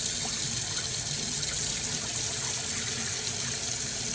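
Rinse water poured out of a rice cooker pot while washing rice, a steady, close splashing stream that runs without a break and with no talking.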